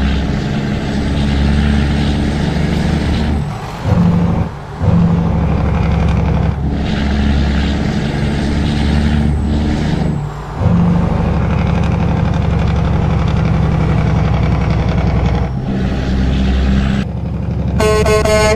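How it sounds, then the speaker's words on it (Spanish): Engine brake of a Peterbilt truck in American Truck Simulator, on a road in Arkansas: a loud, throaty diesel drone that cuts out briefly a few times and then resumes, with a short horn-like burst at the very end. "escuchen ese hermoso freno de motor de esta Peterbilt"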